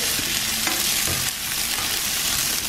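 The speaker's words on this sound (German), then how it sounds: "Die Gnocchis anbraten geht ganz fix." Gnocchi frying and sizzling in a pan while being stirred, a steady close crackle with scraping stir strokes, no talk.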